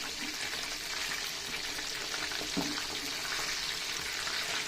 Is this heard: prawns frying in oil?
yes